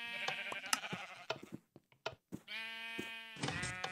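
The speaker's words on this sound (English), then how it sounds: "Now, quick, run before that sheep dies" Sheep in the Minecraft game bleat several times in clear, nasal, wavering calls, close and fairly loud, with short clicks and game noises between them.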